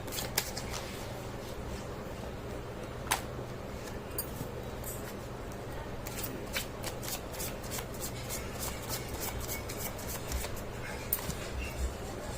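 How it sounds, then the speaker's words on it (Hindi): Tarot cards are shuffled steadily for several seconds, a close, continuous papery rustle broken by frequent sharp flicks and taps of the deck. "कार्ड की शफलिंग।"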